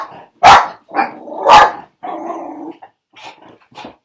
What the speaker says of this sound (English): Sorry, the dog's just gone mad.